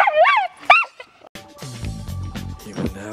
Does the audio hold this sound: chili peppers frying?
no